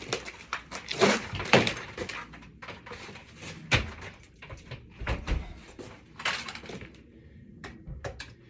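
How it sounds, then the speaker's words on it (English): A Larson Tradewinds storm door is hung on a hang screw, giving a series of close knocks, thunks and light metallic clatter spread irregularly, with no talk. "now it's time to hang this Larson Tradewinds door"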